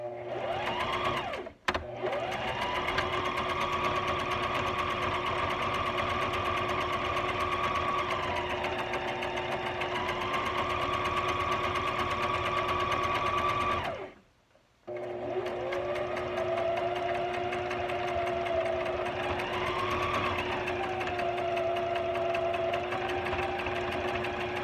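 A sewing machine running a straight stitch with thick quilter's thread, a steady close mechanical whir that rises and dips in speed and pauses briefly twice before resuming, with no talk.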